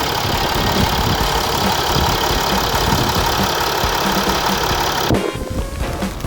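A dark grey 2016 Mercedes-Benz GLE 350d 4MATIC diesel, about 115,000 km on it, idles with a steady, even engine hum that stays loud and constant, then drops off sharply near the end.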